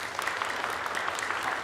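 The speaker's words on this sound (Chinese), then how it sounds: "我们再次来拍手欢迎他们" A church congregation at a Sunday worship service clapping together in welcome, dense continuous applause from many hands in a reverberant hall, steady and moderately loud throughout.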